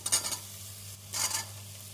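Potatoes and butter beans sautéing in a pan with onion, ginger-garlic paste and green chillies: two short bursts of stirring and sizzling, close by, separated by a quiet stretch over a low steady hum.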